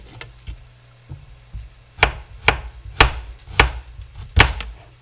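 Sharp knife strikes chopping garlic on a board, about eight distinct close thuds in an uneven rhythm, over a faint background sizzle from lamb stew cooking nearby.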